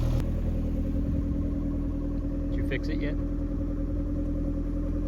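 A Toyota MR2 fitted with a water-to-air intercooler idles steadily at around 1300 rpm, a low continuous hum close by while a person speaks briefly over it.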